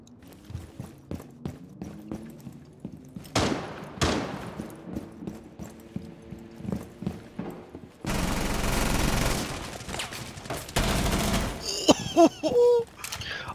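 Gunfire in a Rainbow Six Siege match, including a wallbang shot through a wall: sharp, punchy reports and bursts come over game music and effects, with a dense, loud stretch of rapid firing near the end.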